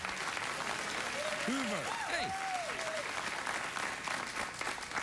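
Studio audience at a late-night talk show bursts into sustained applause that fills the whole stretch, with a voice briefly calling out over the clapping.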